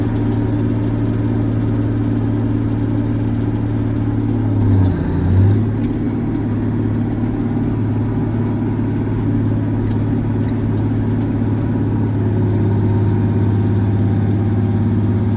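Cummins Big Cam diesel swapped into a John Deere 8630 tractor, steady loud engine drone held at raised rpm with a brief dip and recovery, continuous throughout with no talk.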